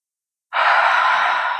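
One deep, breathy inhale taken during a chest mobility exercise that opens the ribs, loud and close, starting suddenly after silence and holding steady.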